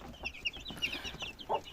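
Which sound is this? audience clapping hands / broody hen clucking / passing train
broody hen clucking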